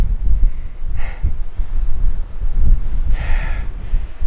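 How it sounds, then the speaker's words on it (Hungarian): Strong wind gusting outdoors on a coastal trip in Istria, a steady low rumble buffeting the microphone throughout with louder surges around the second and near the end. "Rettenetesen fúj a szél."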